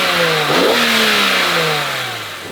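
A BMW Z4 M with the S54 engine revving hard, the engine note sweeping up loudly, then falling off and climbing again as it drives, close and dominant.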